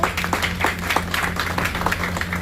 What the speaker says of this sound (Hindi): प्लीज तालियों से स्वागत करेंगे।